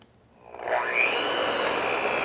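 An electric mixer starts up, rising in pitch as it spins up and then holding a steady loud whir while beating royal icing, with no talk over it.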